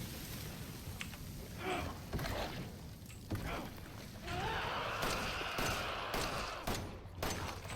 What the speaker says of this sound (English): And then let her get on the wall, shoot her down.